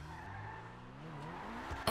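A car in the game GTA roleplay revs hard and accelerates with a rising engine whine while its tires squeal and skid continuously, loud and close, for about two seconds.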